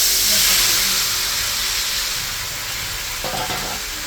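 Potatoes frying in a pan hiss with a broad, steady sizzle that is loudest at first and eases off a little, with a short knock of a utensil near the end and no speech.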